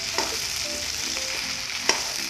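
Duck meat sizzling steadily in a hot pan, with a couple of sharp scrapes from stirring.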